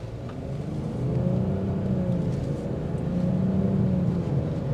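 A 2024 Nissan Rogue SV small SUV with a 201-horsepower variable-compression turbocharged engine drones steadily while accelerating, heard from inside as a smooth, moderately loud hum with rising and falling engine tones.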